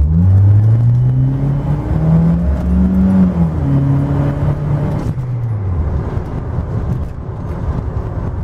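A turbocharged Volvo 740 SE engine, at full operating temperature and running about 15 psi of boost, revs up hard, its pitch climbing through a couple of gears before easing off to a steady drone; loud and close.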